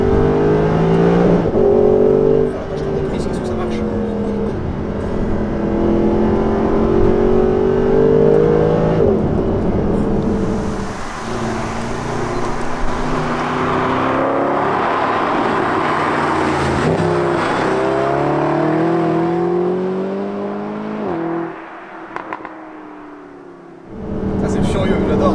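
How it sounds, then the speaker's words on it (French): Mercedes SLS AMG Roadster engine revving hard and dropping as the driver downshifts from third gear at around 4000 rpm, a loud, continuous rising and falling roar heard from inside the car with a voice talking over it. "Elle a 4000 tours, allez, je suis en 3ème, je rétrograde, écoutez."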